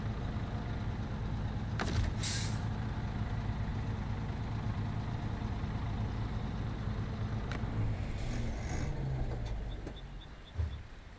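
A truck engine running steadily at idle in SnowRunner, a low continuous rumble with a few brief mechanical clicks and whines, the engine settling toward the end.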